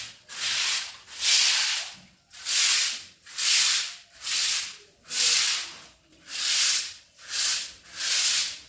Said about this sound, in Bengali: আমি কেচে দিই।